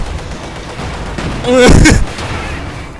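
A brief burst of rapid gunfire from the game Company of Heroes 2, loud and close, rises over a steady low background rumble.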